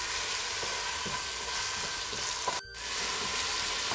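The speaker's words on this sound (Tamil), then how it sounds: "இஞ்சி பூண்டு நல்லா வதங்கின உடனே தயிர் 1/4 கப் ஆட் பண்ணி நல்லா வதக்கிக்கணும்." Ginger, garlic and yogurt sauté in a pan for mutton kurma with a continuous bright sizzle and light stirring scrapes. The sizzle drops briefly once partway through, and no voices are heard.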